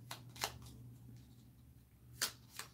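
Playing cards being shuffled together at a tabletop game, a few quiet riffling bursts with soft pauses between them, close and faint.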